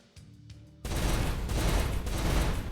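Burst of gunfire from a jungle firefight in the turn-based war game Kriegsfront Tactics, a sudden loud volley of overlapping rapid shots erupting after a quieter lead-in and sustaining dense and close until the end.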